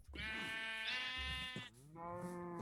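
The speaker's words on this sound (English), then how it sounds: "Don't worry, I know these are the sheep." Sheep bleat in the Minecraft video game, two loud, close, harmonic bleats in a row, the first long and wavering, the second lower and steadier, with no talk.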